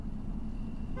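A car in a video game approaching with a low engine rumble and a short horn toot near the end.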